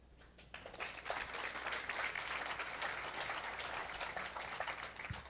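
Crowd applause for Vietnam veterans at a driver appreciation event, a broad, sustained wash of many people clapping at a moderate, somewhat distant level, holding steady for about five seconds before a faint thump near the end.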